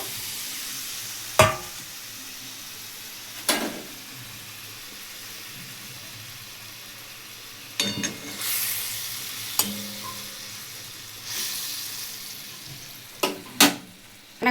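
Slit green chillies fry in a pan of mustard oil with a low, steady sizzle, broken by a few sharp clanks of stirring spaced through the clip; no one speaks.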